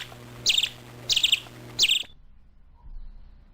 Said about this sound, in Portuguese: Fora os passarinhos, né, que vocês devem estar escutando aí o tempo todo.